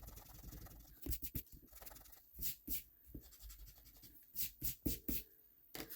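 An eraser rubs out a pencil mark on a 5x7 card in bursts of quick back-and-forth strokes, with brief pauses between them, close up and quiet.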